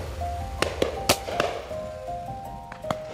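Shotguns fire at a driven pheasant shoot on a large Cotswolds estate, a rapid scatter of sharp reports at varying distances, some close and loud and others fainter, over outdoor ambience, with a steady tone running underneath.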